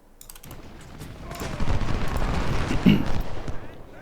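Cannon fire in the Ultimate General: Civil War game, a rolling series of booming artillery shots and crackling volleys that builds in loudness, with one sharper blast near the end.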